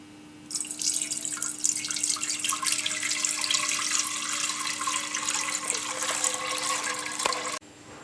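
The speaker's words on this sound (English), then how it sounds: "I have poured all the milk in the pot" Whole milk pours into a pot in a home kitchen, a steady, close liquid splashing and trickling stream running for several seconds before stopping abruptly, with no talk over it.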